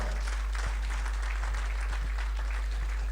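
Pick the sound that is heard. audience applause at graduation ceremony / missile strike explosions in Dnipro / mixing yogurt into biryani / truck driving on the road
audience applause at graduation ceremony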